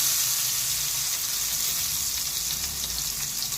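Nuts and chopped tomato frying in a pan with five-spice seasoning, giving a loud, steady, close sizzle that runs unbroken throughout with no talking.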